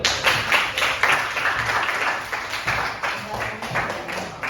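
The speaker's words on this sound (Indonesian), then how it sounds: "Tepuk tangan semuanya lo." Students in a classroom clap together in a lively, uneven rhythm of repeated bursts, moderately loud and close, with voices mixed in among the claps.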